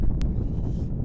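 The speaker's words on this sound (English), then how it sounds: "Getting more and more windy here." Wind buffets a microphone outdoors by the water, a brief loud low rumble with a short sharp click near the start.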